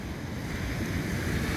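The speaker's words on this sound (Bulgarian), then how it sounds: "отдалеч се чува шума на морето" Sea surf rolling onto the south beach at Kiten, a steady broadband wash of waves mixed with wind rumbling against the microphone.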